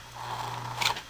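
A Patton HV fan motor runs on its own after being partly reassembled, giving a steady low hum and a soft whir. It is close but quiet, and a brief rattling flutter comes near the end.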